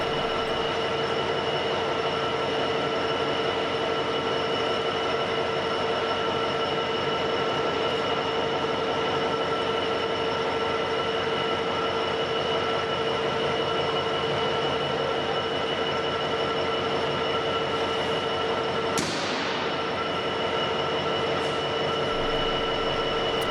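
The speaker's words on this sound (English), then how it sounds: "A southbound freight stops for a change of driver." A southbound diesel freight train pulls in to stop for a change of driver, its steady loud rumble and hum filling the scene, with a sharp brake squeal near the end.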